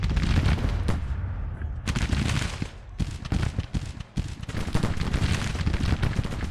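Cannon fire from an artillery battery in the Grand Tactician: The Civil War strategy game, several loud booming blasts with short gaps between them, close and heavy, with brief rumbling tails and no talk over them.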